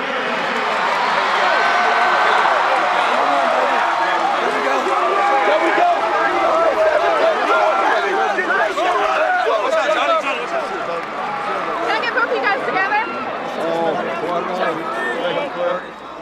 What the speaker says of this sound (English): What a crowd there on the field.